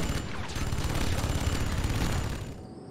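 Nod units fire continuously in Command & Conquer 3: Tiberium Wars, a dense, loud, rattling burst of rapid gunfire that runs without a break for about three seconds.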